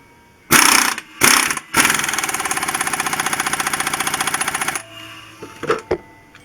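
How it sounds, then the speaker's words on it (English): An air impact wrench tightens the crank bolt on a 203 Perkins engine during reassembly. Two short loud bursts are followed by a long, steady hammering rattle, then a few brief taps at close range. "This is one of the few things in the reassembly that you want to use an air wrench for"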